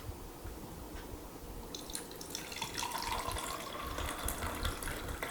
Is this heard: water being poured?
yes